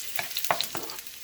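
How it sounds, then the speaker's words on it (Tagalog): Garlic and onion frying in a pan for bringhe, the Kapampangan sticky rice dish, with soft sizzling broken by a few stirring scrapes, close and fairly quiet, no one talking. "linagay na niyo yung bawang at susunod ay sibuyas"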